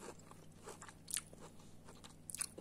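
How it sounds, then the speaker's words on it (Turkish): Biting and chewing a crunchy chocolate bar filled with puffed rice, crisp crackly crunches close to the microphone, with two sharper bites standing out. "Bu bir önceki yemiş olduğum çikolatanın normal klasik olandan biraz daha kıtırtı."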